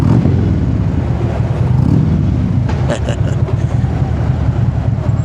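A Harley-Davidson motorcycle engine rumbles and revs loudly and continuously at close range under a bridge, its deep throaty roar echoing as if in an enclosed space.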